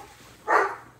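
Dogs barking indoors, heard as a single loud, near bark burst midway through a second of quiet room tone.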